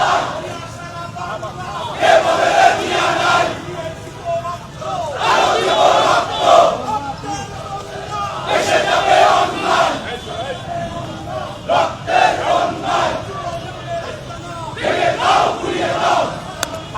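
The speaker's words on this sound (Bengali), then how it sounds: "আওয়ামী লীগের বিরুদ্ধে বিভিন্ন স্লোগান দেওয়া হচ্ছে" A large crowd at a Dhaka street protest march chants slogans against the Awami League, rhythmic shouted call-and-response bursts swelling and falling repeatedly, loud and close, with general crowd noise between chants.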